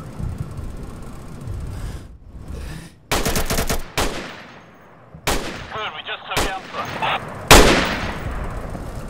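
Bursts of automatic and single-shot gunfire from the tactical shooter Insurgency, loud and close, arriving in several sharp clusters separated by brief lulls, with echoing tails.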